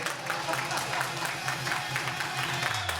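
A small audience at a prize-draw celebration claps for a few seconds, a steady patter of applause mixed with chatter and a voice talking.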